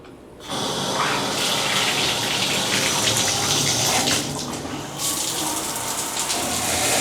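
Shower in a Walt Disney World hotel bathroom turned on, water gushing loudly and steadily from the tap after a brief quiet start, with slight sputtering changes in the flow.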